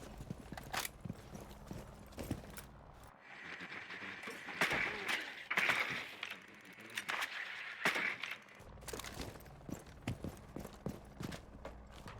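Scattered sharp gunshots crack through a Rainbow Six college esports match, with quick irregular bursts over quieter footsteps and movement, plus a muffled stretch of noisier action in the middle.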